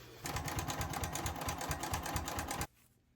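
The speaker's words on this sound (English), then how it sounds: "I'm going to take it to the sewing machine and I'm going to put a top stitch right along the top using my zipper foot." A sewing machine runs a top stitch with a zipper foot, a steady rapid mechanical chatter that is close and loud, continuing alone for over two seconds before stopping abruptly.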